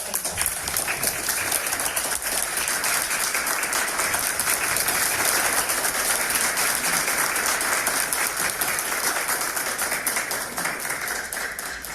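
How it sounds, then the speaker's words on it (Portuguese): A sustained round of applause from an audience honouring award-winning educators at a municipal public event, dense and steady clapping that holds evenly from start to finish. "gostaria de pedir uma salva de palmas para eles"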